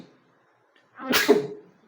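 A single sharp sneeze bursts out close up after a quiet pause, in a kitchen where chicken biryani is being cooked.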